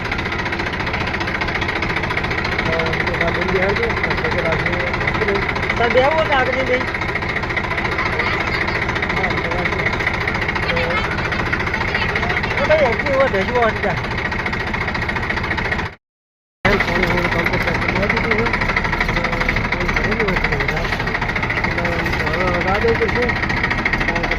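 A tractor engine idles and runs steadily at close range, a continuous loud mechanical drone with a knocking pulse that drops out briefly near the end, and faint voices are heard over it.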